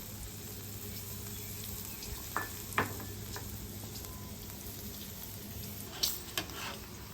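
Jalapenos sizzle steadily in butter in a pan while cooking brisket burgers, a soft continuous crackle with a few sharper clinks and stirring sounds, no talking.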